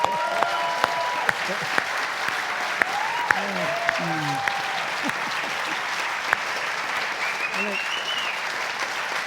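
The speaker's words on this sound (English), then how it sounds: "They're clapping the puppets, not us, you know." A theater audience at a comedy anniversary celebration claps continuously at a moderate level, with voices talking over the applause and scattered sharp clicks throughout.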